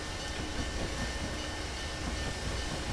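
A train runs in the Railworks simulator, a loud, continuous rail roar with dense rumbling and rolling wheel noise, steady and unbroken with no speech.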